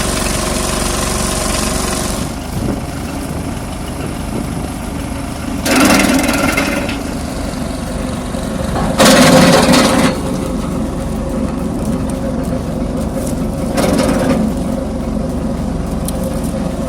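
A TZ4K stump grinder hooked to a tractor grinds through wood, a steady loud engine drone with several harsh bursts of cutting noise as the blades bite in.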